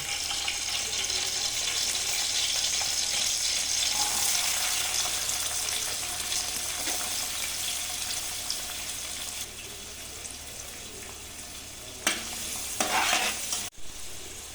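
Mustard seeds, onion, garlic and curry leaves sizzle in hot oil in a pan, a loud, steady hiss that softens slightly partway through, with a few brief stirring clatters near the end.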